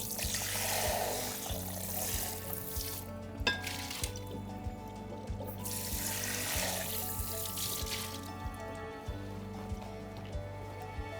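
A cup is rinsed under a running kitchen tap, giving a soft, steady stream of water that splashes and shifts, with a small clink partway through. It sits under a low, regular mechanical hum, quiet and close.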